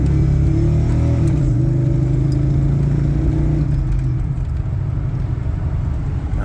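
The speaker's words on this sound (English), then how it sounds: "it chirps the tires in the second and third" A 1998 GMT400 pickup truck engine roars close by under hard acceleration, its low drone shifting pitch as it revs, with no voices heard.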